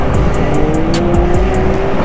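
A loud, steady 2021 Can-Am Spyder RT Limited engine drone with a whining rising tone and rhythmic ticking, heard close up while riding.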